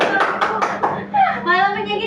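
Children in a classroom clap in a hand-clapping game, a few sharp rhythmic claps near at hand, followed by a voice speaking.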